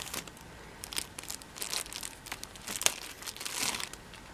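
Sticky tape is cut and peeled off the feet of a Hot Toys Yondu deluxe figure, giving a string of soft crinkling, crackling snips and rustles, close and quiet, with no talk.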